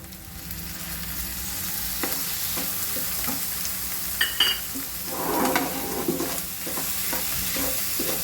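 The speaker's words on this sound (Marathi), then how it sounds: "हे थोडं परतून घ्यायचं कारण हे आपण भाजूनच वाटलेलं आहे" Roasted, ground garlic, ginger, coriander and tomato paste is sautéed in a pan for a Maharashtrian chickpea dish, giving a steady close sizzle and frying hiss, with a few spoon scrapes and a louder bubbling burst midway.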